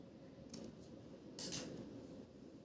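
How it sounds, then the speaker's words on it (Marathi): Scissors snip leftover thread on a mangalsutra, giving two faint, quick cuts about a second apart against a quiet background. "आता उरलेला धागा आपल्याला कापून घ्यायचा आहे."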